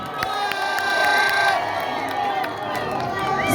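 A large crowd at a stadium in Busia cheers and shouts loudly and continuously, with whoops and children's voices in a dense roar, heard from within the crowd.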